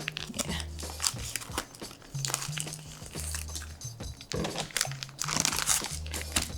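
Scissors cutting open and crinkling a bag of Kerrygold full cream powdered milk, with steady close crackling and rustling of the packaging throughout, plus low hum and brief voices in the background.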